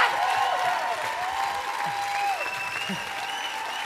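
Studio audience applauding steadily on a French-language TV game show, with whistles and cheers over the clapping; the applause fills the whole stretch at a moderate level.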